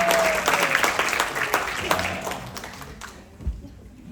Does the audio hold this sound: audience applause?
yes